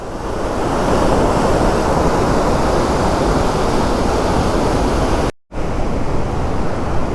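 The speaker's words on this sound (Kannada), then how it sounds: "ಇಲ್ಲೂ ನೀರು ಫೋರ್ಸ್ ಹರಿತಾ ಇದೆ." Water rushes forcefully over the Kodibayi Katte outlet of the Chikka Devaraya Sagara dam near KRS in a loud, constant roar. A momentary dropout breaks it near the end.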